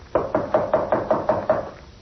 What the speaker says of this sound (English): there came a knock on the door